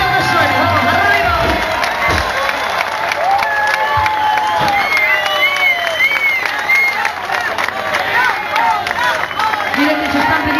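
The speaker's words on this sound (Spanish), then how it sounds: "Este aplauso para el Rebolero que suene." A crowd at a Galician festival dance claps and cheers loudly, whoops and shouts rising over a steady wash of applause for about ten seconds.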